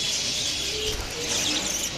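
A dove nesting on its eggs coos at a pet bird shop, with soft cooing set against a steady wash of background shop noise.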